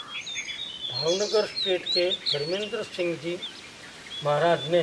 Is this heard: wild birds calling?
yes